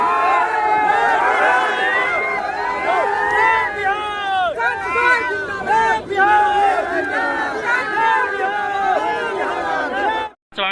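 A huge outdoor political rally crowd for Prashant Kishor in Muzaffarpur, Bihar, roaring and chanting loudly and continuously, voices layered into a dense, excited din that cuts off abruptly near the end.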